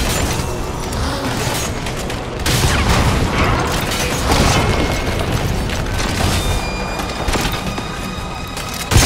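Dense, continuous bursts of gunfire and booming blasts in Metal Gear Solid V: The Phantom Pain, loud and close, with rapid cracks layered over heavy low rumbles throughout.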